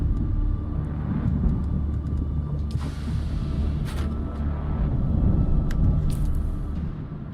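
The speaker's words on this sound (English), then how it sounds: "Sounds like there's a sandstorm out there." Sandstorm wind in the video game Dune: Awakening roars as a loud, continuous low rumble, with occasional creaks and clicks over the top and no talking.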